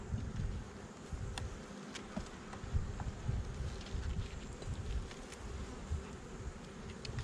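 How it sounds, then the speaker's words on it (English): Honeybees from a swarm buzzing inside an open hive, a continuous low droning hum close to the microphone, with a few individual bees passing by and no voices. "These were the swarm bees, I believe."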